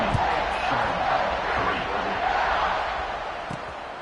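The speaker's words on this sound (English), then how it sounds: "this crowd is buzzing after that last score" A football stadium crowd at Ohio State versus Charlotte, buzzing after a score: a dense, continuous roar of many voices, steady and fairly loud from a distance, with a few sharper shouts.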